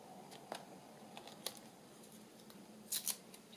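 Scissors snip paper during journaling, a few quiet crisp cuts scattered across the moment, with a quick double snip near the end, close and otherwise calm.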